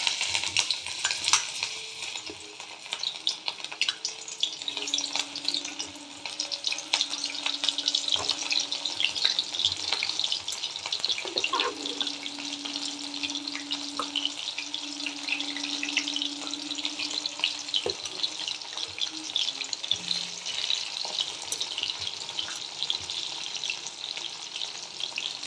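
Cauliflower pieces fry in a pan for a homemade cauliflower korma, giving a steady, close, bright sizzle throughout with faint clinks of stirring and a low background hum, and no talking.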